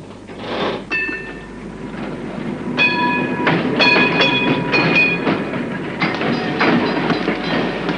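Tram running on rails through a city, metallic screeching squeals and rattling wheel noise swelling and fading, loud and close, with no voices.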